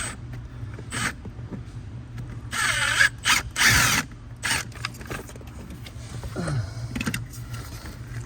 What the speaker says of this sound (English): I'll go ahead and take all the bolts and stuff out that I can right now